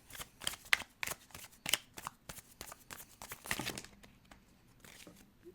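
Tarot cards being shuffled at close range, a rapid run of crisp riffling flutters and snaps that thins into softer rustling toward the end, with no voices.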